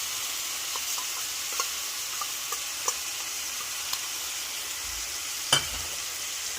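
Chilli chicken sizzles and fries in a pan with ginger, garlic, soy sauce and tomato sauce, a steady close hiss broken by a few faint clicks and one sharp knock of stirring.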